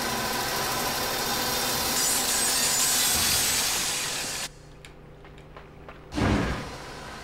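Spinning saw trap in the video game Limbo, a steady grinding, rasping whir that runs loud for several seconds, cuts out abruptly into near quiet with faint ticks, then returns with a brief low thud.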